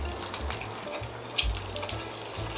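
Food fries in a little oil in a 26 cm Tefal flat-bottomed nonstick pan, a close, continuous sizzle with a short sharp crackle partway through and no speech.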